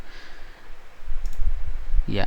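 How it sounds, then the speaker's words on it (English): Computer mouse click saving work in SAP ABAP software, a couple of quick dry clicks close by under a steady room hum. "Now I'm just clicking on save"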